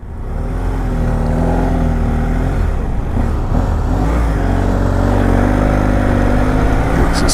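Engine of a car pulling away in second gear on a road in the Adelaide Hills, a steady, loud rising drone with harmonic whine throughout, no voices.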